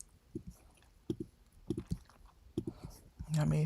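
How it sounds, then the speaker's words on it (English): Gum being chewed close to the mouth, giving soft wet clicks and smacks in an irregular rhythm, faint and intimate, ending in a brief louder tonal burst. "I'm chewing a piece of gum and it's obviously really good because it's probably really loud"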